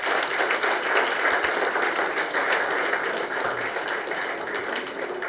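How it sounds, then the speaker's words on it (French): An audience applauds the staff at an anniversary celebration for a priest's twenty years of writing, a loud, continuous wash of many hands clapping that holds steady throughout with no talking. "je vous prie de l'applaudir"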